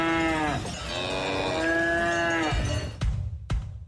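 Cattle mooing up close in a livestock auction advertisement: a long, loud, drawn-out moo with wavering pitch, followed by two sharp knocks at the end.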